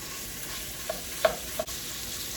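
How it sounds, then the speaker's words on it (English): Beef frying with garlic in a hot pan gives a soft steady sizzle, and a few brief scrapes and clicks of stirring come through close by. Nobody speaks. "So it should give a nice sizzle,"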